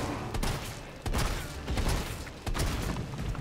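Gunfire in Resident Evil 3 Remake: a handful of muffled, booming shots at irregular intervals, fairly quiet and alone with no speech.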